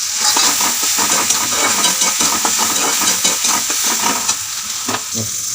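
Onion, tomato and garlic fry and sizzle in a pan for egg bhurji, a loud steady hiss with repeated scraping stirs throughout and no talking.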